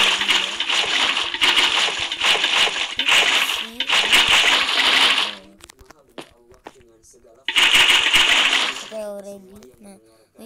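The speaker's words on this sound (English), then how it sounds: "Now place a water bucket." A water bucket is placed in Minecraft, with bursts of splashing water sloshing loudly in several stretches, broken by brief quiet gaps and a few light clicks.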